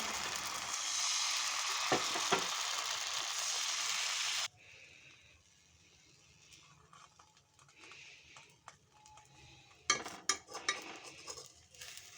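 Patishapta pitha pancakes frying in a pan for Poush Parbon: a steady, fairly loud sizzling hiss for several seconds, then quieter clinks and scrapes of utensils with a few sharper clatters.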